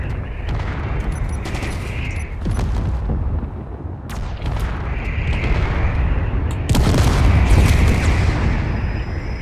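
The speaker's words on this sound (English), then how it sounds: "Jake, you can stop shooting." Sustained heavy weapons fire in the Space Engineers game during a drone fight, a dense continuous barrage of booming, rattling shots filling the whole stretch with bright bursts, loud and close, no voices over it.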